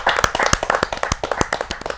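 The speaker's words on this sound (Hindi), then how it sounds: "जोरदार ताली के साथ हम उनका स्वागत करते" An audience at a Hindi kavi sammelan claps to welcome a poet. The clapping is dense and close, with sharp irregular hand claps in quick succession throughout.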